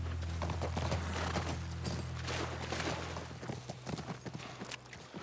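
Horse hooves clip-clop in a steady walking rhythm in The Last of Us video game, over a low continuous ambient hum, moderately close and fading slightly toward the end.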